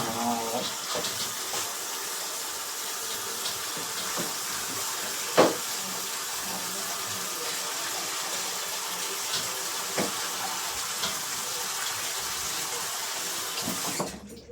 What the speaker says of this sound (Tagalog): ito nahugasan natin baka